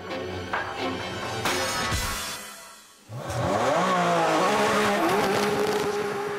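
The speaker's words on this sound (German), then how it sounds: "Doch dann stottert sie plötzlich und der Rennwagen zieht mühelos vorbei" A race car roars past at high speed in a test against a fast-burning fuse, its engine pitch sweeping and fading, then a second loud, sustained surge of revving engine noise follows a brief dip.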